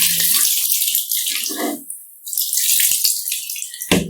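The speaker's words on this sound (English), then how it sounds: "Pour the water outside." Water poured out outdoors after washing a cross-stitch project, a loud splashing gush that briefly falls quiet mid-pour and then resumes.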